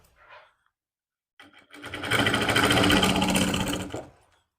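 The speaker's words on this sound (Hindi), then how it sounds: "और फिर आपने सिलाई लगानी है।" A sewing machine stitches lining onto a suit, running in one steady loud whirring burst of about two seconds, preceded by a short faint rustle.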